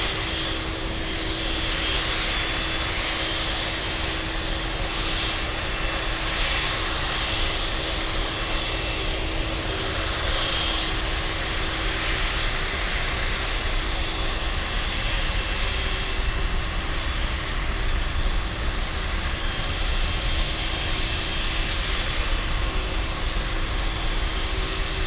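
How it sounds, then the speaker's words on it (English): A Qatar Airways jet taking off at Miami International Airport produces a sustained, even engine roar with a thin high whine on top, continuous and unchanging for the whole stretch. "first time I'm seeing Qatar take off in quite some time"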